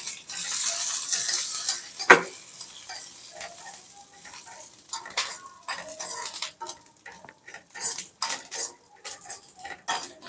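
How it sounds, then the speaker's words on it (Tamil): Tamarind dry-roasting in a pan for an instant pickle, heard as a dense run of metal scraping and clattering strokes from a spatula, with one sharp clank partway through and a faint sizzle underneath. "இவ்வளவு புளியை போட்டு இதுலயே வறுத்துடலாம்"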